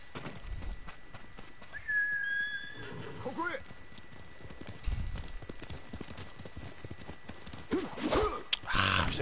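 A horse neighs with a rising, shaky whinny in the Ghost of Tsushima video game, with hooves clip-clopping nearby and a second whinny near the end, while someone talks over the game.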